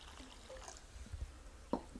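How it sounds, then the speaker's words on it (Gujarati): Water is poured into a cooking pot of dal seasoned with turmeric, red chili, jaggery and lemon, giving a quiet, brief liquid splash and dribble with one sharper splash near the end. "થોડું પાણી નાખી દઈએ"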